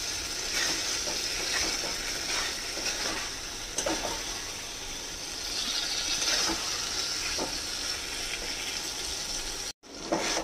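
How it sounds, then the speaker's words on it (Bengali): Pointed gourd curry simmering in a pan, a continuous close hissing bubble and sizzle that runs almost unbroken with a brief dropout near the end. "এটাকে একটুখানি ফুটিয়ে নেব, তাতে পটলের মধ্যেও মশলাগুলো সব ঢুকবে।"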